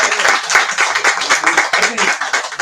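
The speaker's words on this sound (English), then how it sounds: "Let's have an applause for everyone." An audience at a literary reading and award event claps, rapid scattered hand claps that are fairly close and loud, with a voice talking over them.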